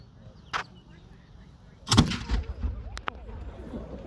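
A cannon fires with a loud, sharp blast at a colonial reenactment on Whidbey, rolling into a rumbling echo and followed by a smaller crack; a brief voice and a short thump come just before.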